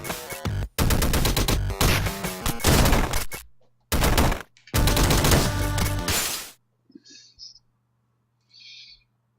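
Weapon fire in the game Downwell comes as loud, dense bursts of rapid electronic shots in several volleys separated by short gaps, followed by a few faint blips and a low hum, with no talking.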